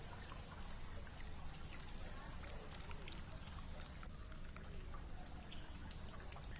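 The Phalguni river in Dakshina Kannada runs in flood during heavy rain, a continuous churning rush of water with splashy, dripping detail throughout.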